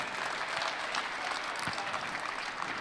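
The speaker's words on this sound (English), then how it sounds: "Big round of applause for that Ford F-100." A crowd at a Scottsdale collector-car auction awards ceremony applauds a custom-built Ford F-100 pickup. The clapping is steady and fairly faint, spread evenly throughout, like a distant hall full of hands.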